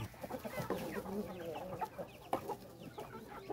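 Chickens cluck and murmur steadily in the background, with a rooster crowing among them, faint and a little distant.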